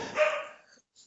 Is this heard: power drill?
no